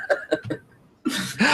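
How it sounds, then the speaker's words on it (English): A podcast host's throat clearing: a few short harsh vocal bursts close to the mic, then a louder rough rasping stretch. "I was clearing my throat"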